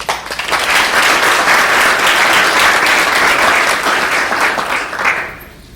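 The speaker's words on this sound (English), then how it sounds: "Can we give them a round of applause?" Loud, dense applause from a large audience, sustained for several seconds before fading out.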